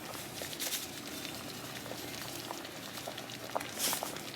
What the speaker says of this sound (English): This is going to simmer.